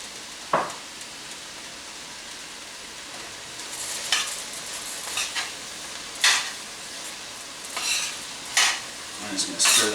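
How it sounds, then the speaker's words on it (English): Cabbage with chili powder and other spices stirred in a sizzling pan, a steady fry hiss broken by several short scraping, clattering strokes of a utensil against the pan. "I'm just going to stir that around."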